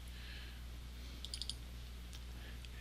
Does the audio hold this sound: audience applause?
no